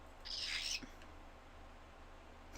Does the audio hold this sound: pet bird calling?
yes